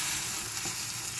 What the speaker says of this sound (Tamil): இப்போ நல்லா வெங்காயம் பொரிஞ்சிச்சு.